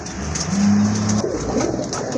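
Pigeons kept for sale coo nearby, one deep, steady coo lasting under a second, followed by softer rustling and faint bird sounds.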